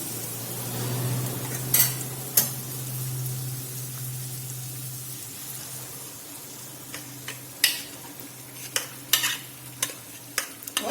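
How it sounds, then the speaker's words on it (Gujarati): Khichdi stirred and cooked in a kadai, with a steady low sizzle and scraping spoon strokes; sharper clinks and taps from the utensil grow more frequent toward the end, close by with no talk. "હવે આપણે જે ખીચડી તૈયાર કરીને રાખી છે તે ખીચડી આપણે કઢાઈની અંદર લઈ લઈશું"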